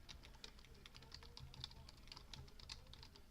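Rapid, steady typing on a computer keyboard, with quiet, close key clicks in a continuous run and no voice.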